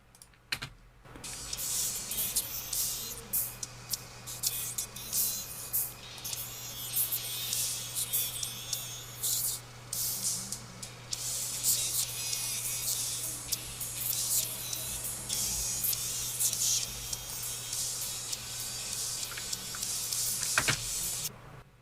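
Soloed top end of a music master passing through multiband compression, heard as thin, hissy, crackling high-frequency texture with fluttering transients and a low steady hum beneath, faint and continuous throughout.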